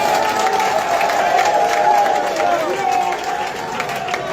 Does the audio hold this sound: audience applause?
yes